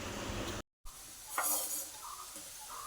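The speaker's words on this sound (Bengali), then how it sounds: "রান্নাঘরে এদিকে আলু ভাজা বসিয়েছি।" Potatoes frying in a pan on a home kitchen stove give off a steady, close sizzling hiss, with a brief cutout and a short burst of stirring.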